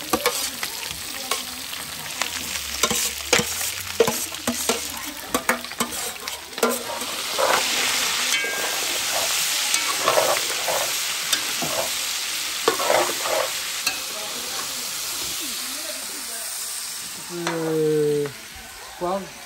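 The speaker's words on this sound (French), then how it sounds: "On met les oignons dedans." Onions frying in a pan together with smoked meat and sausage, a loud, steady sizzle broken by repeated scraping stirs, with a brief voice near the end.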